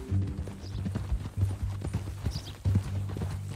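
Horse hooves clip-clopping in Red Dead Redemption 2, a steady trotting rhythm of close, distinct hoof strikes on the ground with a faint whinny-like tone, no talk over it.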